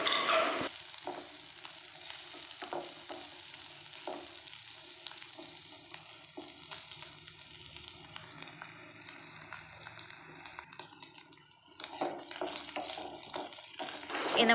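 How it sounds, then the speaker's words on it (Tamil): Milk shark dry fish fries in a pan with a continuous bright crackling sizzle, broken by occasional scraping turns of the pieces and a brief quieter dip near the end. "இந்த மாதிரி திருப்பி போட்டு இன்னொரு 1 நிமிஷம் வந்து நல்லா வதக்கிக்கலாம்"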